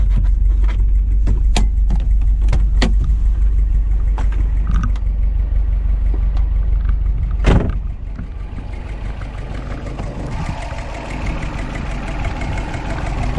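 A Subaru Impreza 2.5RS GC8 with a swapped EJ205 engine idles steadily up close in the engine bay with a deep rumble and clicking, a loud thump partway through, then the running sound continues more softly.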